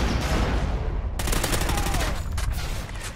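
Rapid bursts of automatic gunfire in a Call of Duty match, loud and close, a dense crackling volley that cuts in sharply partway through over steady game noise.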